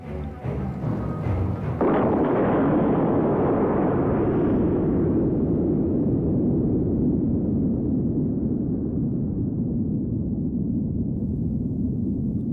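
Soviet atomic bomb test explosion south of the Ural Mountains: a sharp initial blast gives way to a long, sustained low roar and rumble that stays loud and steady for over ten seconds.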